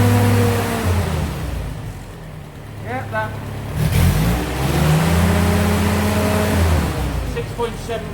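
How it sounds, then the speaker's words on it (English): A Ford GPW jeep engine runs close by and is given a couple of rising revs before settling back to a steady, loud idle hum, with a person talking over it. "give it a little bit of a rev, should climb"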